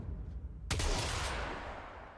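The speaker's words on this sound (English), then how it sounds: "just the Corinth, like, come on. A gun that sounds like this?" The Corinth gun in the video game Warframe fires a single heavy blast, a sudden loud burst that decays into a lingering rumbling tail, with no talking over it.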